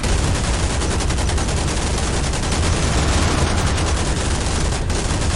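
Sustained, dense rapid-fire gunfire with machine guns and missile launches in the naval combat game Modern Warships, loud and continuous throughout, with no voices.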